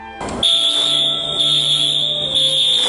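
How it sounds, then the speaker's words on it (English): A loud, piercing electronic fire alarm kicks in and holds a steady, shrill high-pitched tone without pause. "and a fire alarm."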